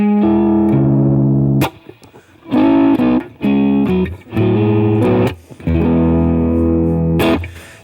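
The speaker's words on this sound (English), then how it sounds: "then we have on the fourth position the neck and the middle pickup" Electric guitar set to the fourth pickup position, neck and middle pickups together, playing a short run of distinct sustained notes and chords with a few brief gaps, loud and close with no talking.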